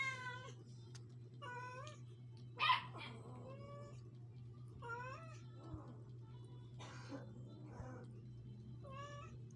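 Three kittens meow repeatedly after eating their dinner, with high, wavering cries coming one after another over a steady low hum.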